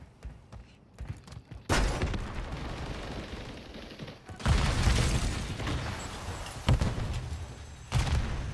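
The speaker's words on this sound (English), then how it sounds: "Someone just shot the fuck out of me." Gunfire strikes the player in the video game Control: several loud, dense bursts of shots crash in, separated by short lulls, with heavy booming impacts close by and no clear talk.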